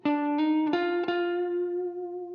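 A few sustained, slightly distorted electric guitar notes from a lead part, a hammer-on sliding smoothly into the next note, ringing out close and clear without any voice.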